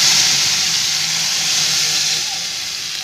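Masala for a Marathi mackerel fish curry poured into hot garlic tempering on low heat, a loud, steady hiss and sizzle up close that eases slightly toward the end.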